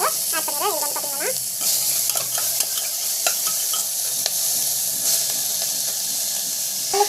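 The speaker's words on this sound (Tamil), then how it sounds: "கட் பண்ணி வச்சு டமாட்டோ வந்து ஆட் பண்ணிடுறேன்." Chopped tomato and peas sautéing in a pan give a steady, bright hiss of frying with occasional stirring knocks throughout, opening with a brief warbling tone over the sizzle.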